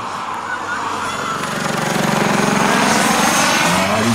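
A large radio-controlled Bell helicopter's rotor chops steadily with a buzzing engine drone, growing louder over a few seconds as it passes nearby.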